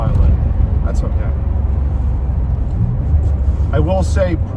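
Low, steady engine and road drone from a 1989 Maserati 430 twin-turbo, 5-speed, while driving, heard from inside the car and continuous throughout, with someone speaking over it toward the end.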